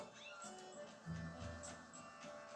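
A short cat meow from the game Zelda: Skyward Sword sounds faintly under background noise and game audio, with some talking around it.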